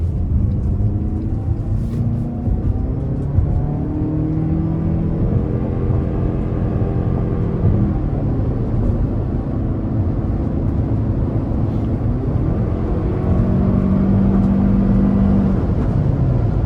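A 2025 Toyota RAV4 Plug-in Hybrid XSE accelerates hard in sport mode onto an interstate, with a steady loud engine drone and road rumble whose pitch climbs and shifts through the run, no talking.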